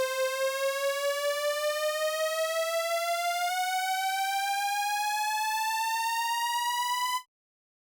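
A synth riser with pitch bend climbs smoothly and continuously over several bars, a bright harmonic-rich tone alone that rises for about seven seconds and then cuts off abruptly.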